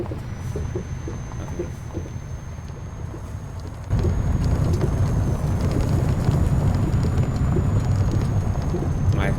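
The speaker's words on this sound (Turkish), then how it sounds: "Şu an bir toprak bir yol sesi geliyor böyle" Truck rolling over a rough dirt mine road to Kirkenes in Euro Truck Simulator 2, a steady low rumbling drone with broadband gravel noise that grows louder and denser partway through, continuous throughout with no talk.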